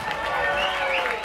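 An audience at a 2014 rautalanka guitar-band show in Nastola, Finland keeps up a continuous wash of clapping, fairly loud and even throughout, with no pauses.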